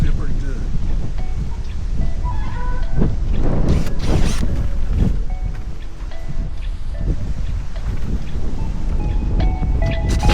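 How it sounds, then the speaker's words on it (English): Strong wind buffets an outdoor backyard build site during construction of a privacy wall from old fence wood, a steady loud rumble with gusts and faint rustling throughout, heavy low-end noise from the microphone. "Windy, it feels pretty good."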